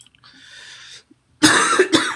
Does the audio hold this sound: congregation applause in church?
no